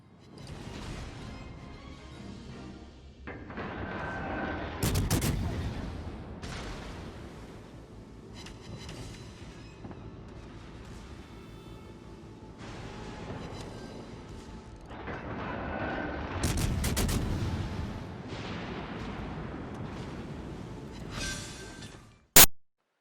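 Cruiser gunfire from the Prinz Eugen in World of Warships: Legends on Xbox, with repeated salvos and booming blasts over a rumbling game soundscape, ending on a sharp loud crack.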